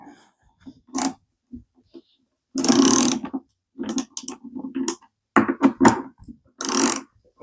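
A ratchet tightening the guide bar nut on a Milwaukee M18 Fuel chainsaw makes short bursts of close, dry clicking and whirring, starting and stopping irregularly, with brief pauses between strokes.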